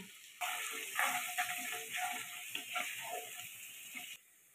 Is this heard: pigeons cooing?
no